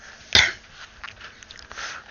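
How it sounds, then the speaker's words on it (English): One sharp, close throat-clearing burst, followed by a few softer throaty rasps and mouth noises in an otherwise quiet room. "I gotta clear my throat for some reason."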